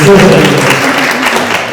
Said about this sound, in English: More clapping, yes.